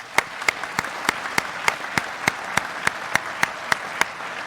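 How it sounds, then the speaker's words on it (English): Audience applause at a military change of command ceremony, continuous clapping from a crowd punctuated by regular sharp, loud claps standing out close by at a steady beat. "Let's give them a round of applause."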